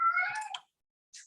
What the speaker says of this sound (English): my cat is meowing at me